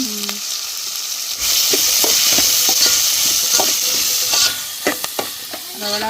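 Sautéing in a frying pan for an egg curry, with salt added: a steady loud sizzle with repeated stirring scrapes and clinks, and brief quieter moments at the start and end.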